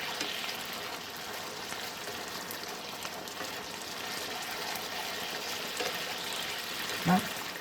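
Spaghetti bolognese mince sizzling and bubbling in a pan with water added, a steady soft frying hiss with faint stirring movement, ending in a brief knock of the utensil near the end.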